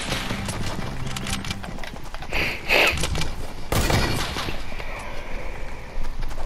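Gunfire in a video game, bursts of rapid shots and a couple of heavier booms over a continuous rumbling background, fairly loud and close.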